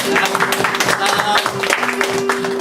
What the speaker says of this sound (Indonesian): selamat datang Ibu Desi di BIC Korea. Tepuk tangan ya